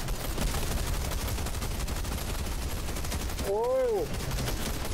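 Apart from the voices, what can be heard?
gunfire from a gun in a video game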